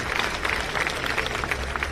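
An audience claps at an event in Armenia, a dense patter of applause close and steady for a couple of seconds, with no clear break.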